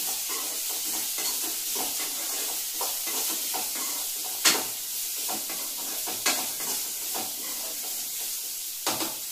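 Mustard seeds sputter in hot oil in a home kitchen, a constant hissing sizzle dotted with quick crackling pops and a few sharper spatters and stirring knocks.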